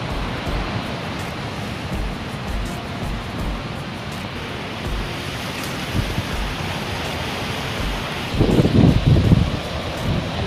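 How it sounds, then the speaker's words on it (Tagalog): Strong, gusty wind by the sea at an abandoned garden lot, a continuous broadband roar that buffets the microphone, swelling louder near the end. "Parang nagabagyo na guys, masyadong mahangin, yung dagat pa."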